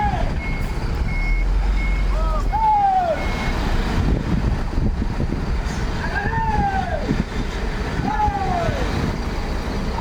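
Express bus pulling out of Kampung Rambutan terminal bound for Ranah Minang, with repeated reversing beeps over a busy roadway rumble of idling engines and traffic, and a departure announcement voiced over the top.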